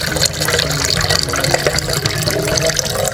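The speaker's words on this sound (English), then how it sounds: "filling the measuring cylinder with 25 ml of clear glue" Clear glue pours from a measuring cylinder into a cup while slime is being made, giving a steady, continuous liquid splashing and trickling sound, close and fairly loud, with no talking.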